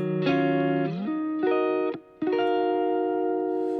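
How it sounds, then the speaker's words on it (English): Clean electric guitar notes and chords played through a very wide, diffuse reverb in a mix, each phrase ringing and sustaining with a short gap before the next line begins. "But the main piece of it here is the reverb."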